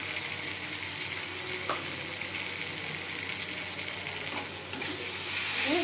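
Masala of chilli powder, cumin powder and salt being fried in a pan for a rohu fish curry with potatoes: a faint, steady sizzle with occasional light stirring taps, rising slightly at the end, no voices.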